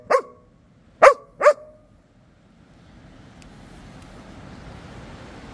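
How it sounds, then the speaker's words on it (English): A Belgian Malinois barks three sharp, loud times, close by, with a pause after the first. Faint low background rumble follows, and no one speaks. "This is what living with a Belgian Malinois is really like. Vocal."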